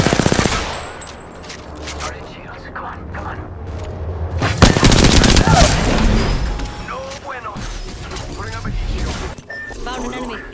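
Bursts of automatic gunfire and heavy impacts ring out in an Apex Legends match, loud and close, with a dense barrage in the middle and game sounds around it, while a player talks over the action.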